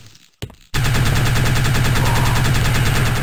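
Rapid-fire weapon in the game Heretic II: a brief click and burst, then a loud, unbroken stream of fast repeating shots that continues to the end.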